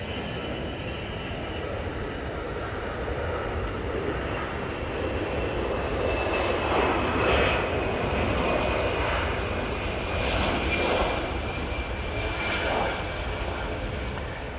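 Jet engines of a Ryanair airliner on approach to land at Manchester Airport, a broad steady roar that swells slightly and then eases, heard from a distance with no talking.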